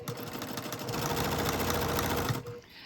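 A sewing machine stitches a lining piece to the bottom of a boho purse, a fast, continuous mechanical whirring run close by that stops abruptly near the end.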